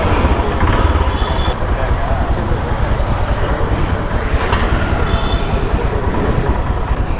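A Royal Enfield Himalayan motorcycle ridden after its bent wheel was straightened, a loud continuous engine and road rumble with heavy wind buffeting, steady throughout with no clear speech.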